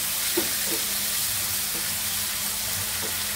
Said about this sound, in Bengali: এই যে আলু লাল লাল করে ভেজে নিচ্ছি।